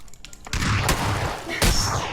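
Sniper rifle shots ring out in the battle royale game PUBG, two loud sharp cracks about a second apart over a busy game soundscape, with players talking faintly.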